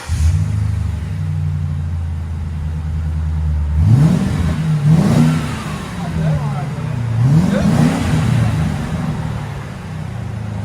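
Heard from inside a Ford Crown Victoria police interceptor, the V8 engine idles low, then revs up sharply twice, each climb rising and falling back to a steady rumble.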